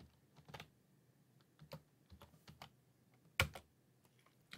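Computer keyboard typing: a short burst of separate, crisp key clicks spaced irregularly, with one louder keystroke near the end, close up and quiet with no voices.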